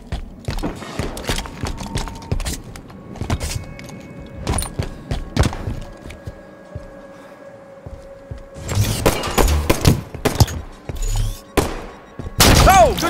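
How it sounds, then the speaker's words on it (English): Gunfire in a one-on-one video game match, bursts of sharp shots and rapid volleys with echoing tails, mixed with game ambience and hoofbeat-like clatter, loudest near the end. "Oh, good shooting!"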